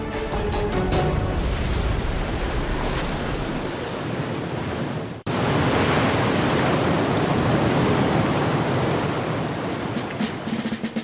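Atlantic swell surges around the base of an oscillating water column on the coast, a loud, steady roar of breaking surf and rushing air with a brief dip midway before the wash resumes.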